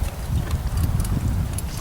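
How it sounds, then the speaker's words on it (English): Horse hooves clip-clop steadily on ground as a mare runs loose and plays in an enclosure, a dense, continuous low patter of footfalls filling the whole stretch with no talk. "let Chica loose in here so she can go ahead and just run around and play"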